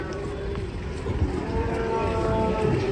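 A low, drawn-out moo from an enraged, rampaging cow over steady rumbling background noise, fairly close.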